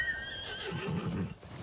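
A horse in the video game Ghost of Tsushima whinnies and neighs, close and fairly loud. A rising and falling call is followed by snorting and low rumbling, with a few hoof steps around it.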